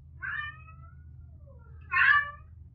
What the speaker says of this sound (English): That's Rocket whining in the background.